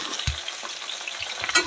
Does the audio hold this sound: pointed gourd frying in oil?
yes